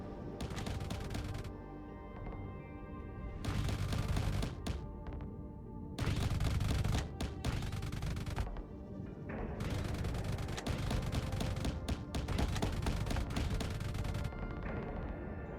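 Rapid spaceship weapon fire from the space combat game Starsector, dense bursts of gunfire and booms pounding in repeated volleys for the whole stretch with little pause.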